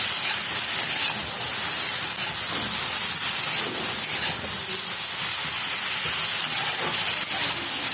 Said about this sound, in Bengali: এখন ভালো করে মিক্স করতেছি আর অল্প সময় ভাজুন